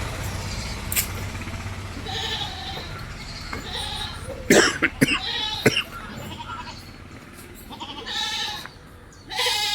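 A hornless one-year-old goat bleats several times, moderately close, amid faint farmyard background noise and occasional speech.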